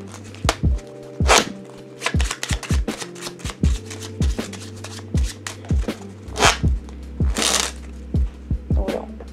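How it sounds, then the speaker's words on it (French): A deck of playing cards is shuffled by hand during a card trick, giving repeated short riffling bursts, close and crisp, spaced irregularly with brief pauses, and no talking. "On mélange le jeu de cette façon"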